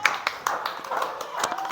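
A classroom audience claps for a student group with a short burst of sharp, uneven claps close by, while voices talk over the clapping.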